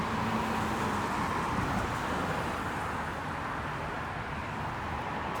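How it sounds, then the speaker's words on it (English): A car passes on a road during an evening walk outdoors, a steady broadband rush of tyre and engine noise that holds fairly loud and even throughout, with faint background traffic and no talk. "that car is creepy."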